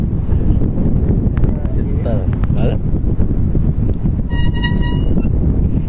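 Wind buffets the microphone outdoors in a dusty breeze, a heavy low roar throughout, with people talking over it and a brief horn-like tone toward the end.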